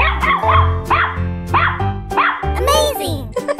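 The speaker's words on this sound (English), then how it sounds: "Dog." A cartoon dog barks in quick, bright, repeated yips and bow-wows, loud and close, with cheerful voices and playful effects in between.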